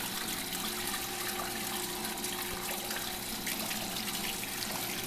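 A small pump in a Belshaw waterfall glazer model circulates water, giving a steady close trickle and splash over a low motor hum, constant and even throughout with no talking.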